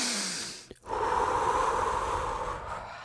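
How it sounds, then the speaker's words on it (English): A single deep, slow inhale follows a brief pause: a long, close, breathy rush of air with no talking over it. "deep breath, I can actually calm myself down?"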